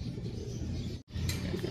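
Racing pigeons coo softly and continuously before release, a low murmuring burble of several birds close by, with a brief silent gap midway.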